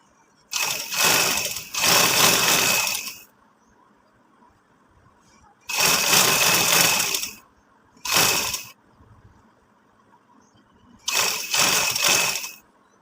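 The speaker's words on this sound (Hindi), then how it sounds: "इस तरह हमने इसकी सिलाई लगाना स्टार्ट कर देनी है।" Bursts of a sewing machine stitching fabric for a summer garment design, running in bursts of a second or two to about three seconds, separated by near silence, loud and close with a whirring, rattling drive.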